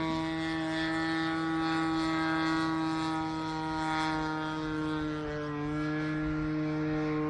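A giant Stick RC model airplane's engine, suspected of an electronic ignition fault, drones steadily at half throttle, a loud continuous buzz with slight pitch wavers throughout and no talking.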